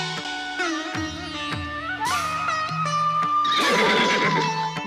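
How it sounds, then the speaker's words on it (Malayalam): A horse whinnies repeatedly in a mythological drama scene, its loud high neighs rising and falling over a dense orchestral music bed with no talk. "നോക്കൂ നോക്കൂ, അത് അശ്വമേധത്തിന്റെ കുതിര"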